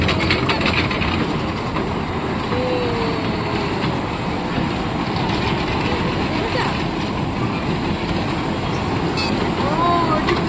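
A fairground train ride at a mela in Golaghat, Assam, gives a steady rumbling clatter under a dense wash of crowd noise, with voices scattered throughout.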